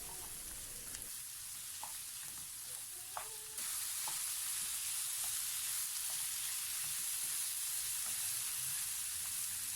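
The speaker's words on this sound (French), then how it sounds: "On fait bien revenir l'ensemble de nos ingrédients une dizaine de minutes." Chicken and cheese filling ingredients sauté in a pan, a steady close sizzle that thickens and grows louder partway through, with a few light clicks of stirring and no talk.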